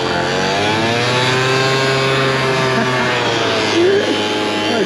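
A Teverun Fighter Mini Pro electric scooter motor revs and accelerates steadily with a rising whine, loud and continuous over rumbling road noise, no talking.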